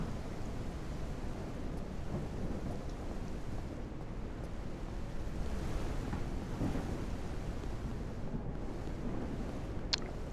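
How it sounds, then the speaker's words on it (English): Rain in the zombie survival game Surroundead, a steady broadband hiss and rumble that holds at an even level throughout with no talking. "Kinda wish it would stop raining."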